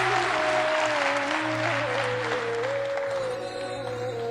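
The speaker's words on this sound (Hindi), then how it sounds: "मुझे ये आर्टिफिशियल ताली क्यों बजाते हो भाई, थोड़ा रियल ताली बजा।" Steady, dense applause from an audience at a motivational talk, filling the whole stretch at an even level, with a faint sustained tone running underneath.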